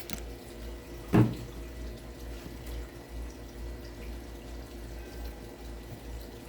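Water runs from a tap onto worm bin bedding indoors, a brief splash about one second in, then a low steady trickle and murmur.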